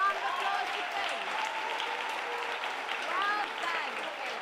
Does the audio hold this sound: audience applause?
yes